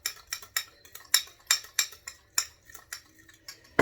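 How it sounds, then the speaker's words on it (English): Egg salad mixed in a bowl with a utensil, a quick regular series of sharp clinking taps and scrapes against the bowl, close and clear with no talking. "You get a nice covering, mix it all up."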